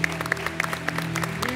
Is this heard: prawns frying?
no